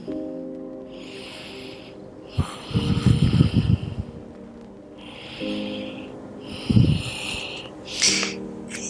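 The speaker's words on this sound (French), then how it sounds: "On respire dans la posture." Slow, deliberate breathing while holding an intense yoga pose, with long breaths in and out under soft background music and a few louder, rougher exhalations.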